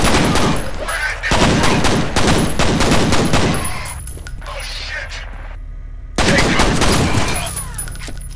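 Dual pistols firing in the shooter game F.E.A.R., loud rapid bursts of shots in dense volleys with a brief lull before firing resumes, no talking.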